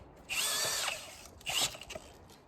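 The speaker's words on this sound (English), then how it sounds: "Trying to drill through all the tree roots." A power drill bores holes through tree roots in a yard, two loud whining bursts of about a second each separated by a brief pause, close by, with the motor pitch sliding as the bit bites.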